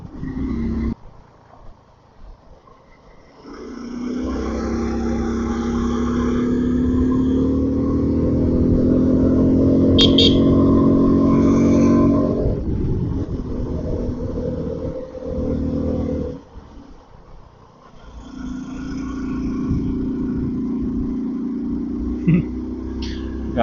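A motorcycle engine with two riders aboard labours up a climb with little power to spare. It gives a loud, sustained rumble that rises and falls, drops out briefly, then returns as a steady drone.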